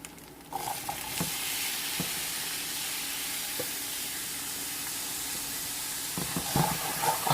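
Paneer curry fries in a pan with a continuous loud sizzle and hiss, broken by occasional scrapes and clinks of stirring that grow busier toward the end, with no voices.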